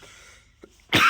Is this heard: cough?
yes